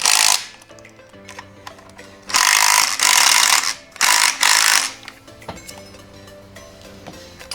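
A ratchet tightens a part on a Subaru engine during a rebuild, giving three loud bursts of dense mechanical clatter separated by quieter stretches of low workshop noise.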